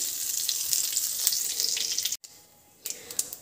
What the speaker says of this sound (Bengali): কড়াইতে দেব গোটা জিরে